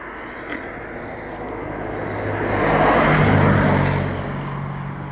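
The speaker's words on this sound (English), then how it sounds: "And there's the car." A car passes along a road in Denbigh, its engine and tyre rumble building to a peak midway and then fading away, heard alone and fairly close.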